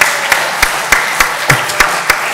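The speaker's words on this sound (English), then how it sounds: "let's give her another round of applause" Applause from an audience at an art talk, a loud, close roar of clapping with several sharp individual claps standing out in a steady beat.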